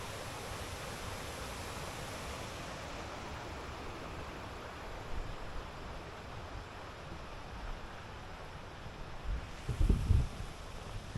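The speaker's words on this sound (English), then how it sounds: "You can probably hear the falls in the background." Steady broadband roar of rushing water from a distant waterfall, continuous, with a brief low rumble near the end.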